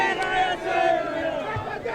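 A large crowd of supporters gathers at a mayoral nomination in Dhanbad and sets up a steady roar of many voices and shouting that holds throughout, with no single voice standing out.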